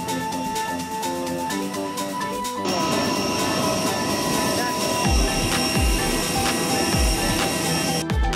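A steady airplane engine roars loudly while passengers board a flight home from Palawan to Manila, with a constant drone, pulsing low rumbles and people talking underneath.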